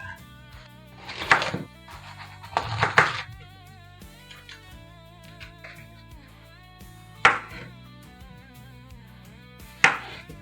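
A knife cuts scalded tomatoes into strips on a cutting board while making shakshuka, a few scattered thunks of the blade against the board over soft background music.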